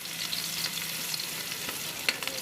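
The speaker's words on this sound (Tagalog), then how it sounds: "ilunod una ang ahos ug bombay" Garlic and onion sauté in a pan, giving a steady soft sizzle with faint scraping stirs and a few small spatters, no voices.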